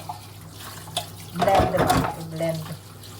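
Running tap water splashes into and around a blender container being washed at a sink, swelling louder in the middle of the short clip, with a voice heard faintly beside it.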